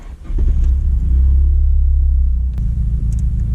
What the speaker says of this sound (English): give you guys a few sound clips of what the new dose pipe and intercooler piping sounds like without the blow-off valve